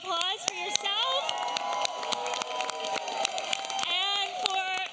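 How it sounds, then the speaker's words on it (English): A crowd claps and cheers at a public celebration marking the first anniversary of New York congestion pricing, with whoops and claps rising around a voice that keeps talking over the noise throughout. "I want you to raise a round of applause for yourself"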